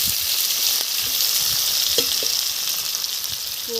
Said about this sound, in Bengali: জিরে ফোড়ন দিয়ে দিলাম, তেজপাতা দিয়ে পেঁয়াজ দিলাম।